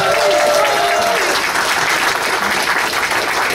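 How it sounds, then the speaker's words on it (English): Audience applause for the hosts of an evening innovation event, a loud, close, even wash of clapping from the crowd, with a brief voice or whistle near the start. "can we give Bobbie and Tim another round of applause?"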